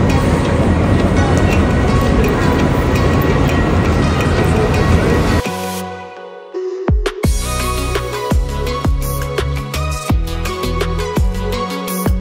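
Loud, steady rumbling roar of an express train riding toward Manchester fills the first five seconds, then it cuts abruptly to quieter, separate tonal sounds.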